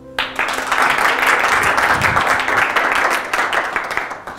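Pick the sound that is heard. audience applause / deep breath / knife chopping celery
audience applause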